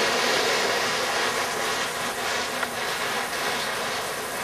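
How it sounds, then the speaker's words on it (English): An oxy-fuel cutting torch flame heats metal in a sculptor's workshop, giving a loud, steady broadband roaring hiss that holds without a break, close by and with no talk over it. "I adjust the oxygen flame"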